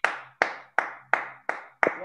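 Six sharp, evenly spaced hand claps ring out alone during an Argentine online prayer meeting, each one close, crisp and separated by brief silence.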